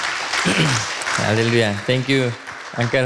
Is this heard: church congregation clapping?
yes